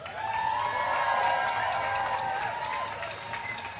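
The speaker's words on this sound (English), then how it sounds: "one more round of applause" Crowd clapping and cheering at an outdoor political rally in Washington, DC, a dispersed wash of applause with a steady tonal hum running underneath throughout.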